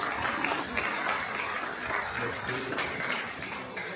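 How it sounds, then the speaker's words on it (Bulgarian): Audience applause at a Bulgarian journalists' union award ceremony in a national radio studio, a steady dense clapping held at even loudness for the whole stretch with some murmur mixed in. "Иначе два пъти по-силни аплодисменти за него"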